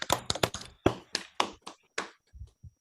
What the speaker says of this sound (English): ask my colleagues to unmute and give a round of applause again to our esteemed graduates